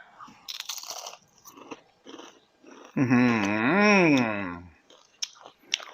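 Crispy fried dried fish is crunched in short, close, crackly bursts, interrupted midway by a longer voiced, tonal sound before a few more crunches.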